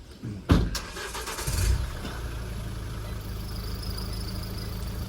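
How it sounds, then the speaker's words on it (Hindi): A car engine cranks and catches with a sharp burst, revs briefly, then settles into a steady low idle that holds to the end, with no talking. "अंकल कुछ खुद ही गाड़ी चला रहे हैं।"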